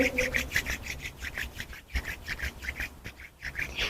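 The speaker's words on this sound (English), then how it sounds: "Then start rubbing your hands together." Palms rubbing briskly together in a quiet room, a soft rhythmic swishing friction repeated back and forth several times per second, close and gentle.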